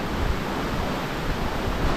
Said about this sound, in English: we'll get out of the sound of the creek here a little ways